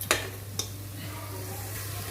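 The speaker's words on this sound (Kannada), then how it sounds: "ಇದೆಲ್ಲ ಸ್ವಲ್ಪ ಫ್ರೈ ಆಗಬೇಕು ಚೆನ್ನಾಗಿ." Goat tripe frying in a pan for gojju, a steady close sizzle with a low hum underneath and a couple of sharp clinks from stirring at the start.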